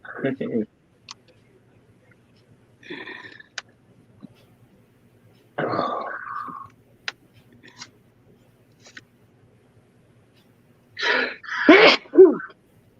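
Several sharp, explosive sneezes close to the microphone, spread across the clip with quiet gaps and small clicks and rustles between them.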